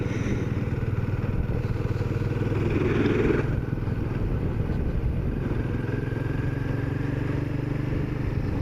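A motorcycle passes on a mountain road in Nepal, a steady engine drone that swells briefly near the middle then settles, heard close against continuous rumbling road and wind noise.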